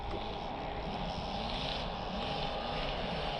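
A 10cc engine on a Hangar 9 Ultra Stick RC model airplane drones steadily and evenly throughout, mixed with broadband wind rush, with no talking.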